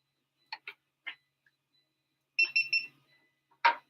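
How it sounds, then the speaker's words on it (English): Sparse electronic beeps in a quiet room: a few short chirps, then a cluster of three quick tones and one final beep, close and clear. "Beep, beep, beep."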